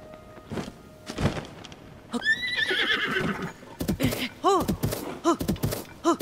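A horse in Zelda: Tears of the Kingdom whinnies in a loud rising neigh, followed by a quick run of snorts and clip-clop hoof sounds, with soft game noises before it.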